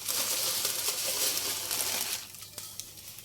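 Long thin semai vermicelli fries in a pan with a dense, loud crackling sizzle that fades to a quieter hiss partway through, with one brief clink near the end.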